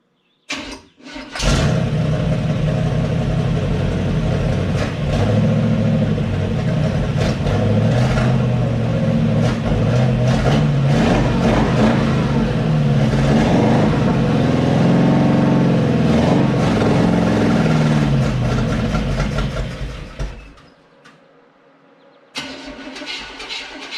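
A 1940 Dodge fitted with a big-block Chevy engine, its fuel system faulty, cranks and fires after three years idle, then roars and revs loud and close for about twenty seconds before cutting out, followed by a short restart.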